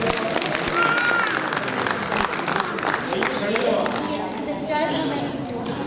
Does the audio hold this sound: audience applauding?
yes